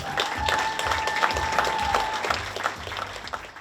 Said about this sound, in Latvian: Un ar aplausiem sveiksim uzvarētāju